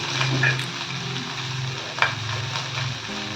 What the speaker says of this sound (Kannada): ಇದಕ್ಕೆ ಹುರಿಯೋಕ್ಕೆ ಸ್ವಲ್ಪ ಕರಿಬೇವಿನ ಸೊಪ್ಪು ಹಾಕಿದ್ದೀನಿ